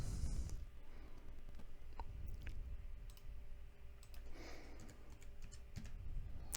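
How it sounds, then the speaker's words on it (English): Keys clatter on a computer keyboard as dimensions are entered into a sketch, a steady patter of soft clicks with occasional firmer taps for the enter key, close and fairly quiet over low room hum. "Just hitting enter after I put each dimension in."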